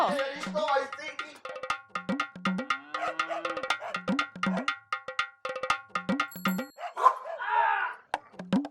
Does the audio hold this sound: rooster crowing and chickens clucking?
no